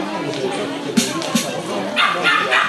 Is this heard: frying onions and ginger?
no